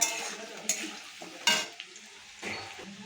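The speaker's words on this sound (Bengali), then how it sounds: "এখানে আলু ভাজি, আলুটা ভাজা হয়ে গেলে মশলাটা দিয়ে দেবো।" Potatoes sizzle softly in a hot pan while a utensil stirs and scrapes a few times, with occasional louder clinks.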